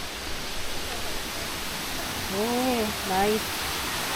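A waterfall at a hot spring resort in Calauan, Laguna gives a steady, broad rush of falling water, with a person speaking briefly over it.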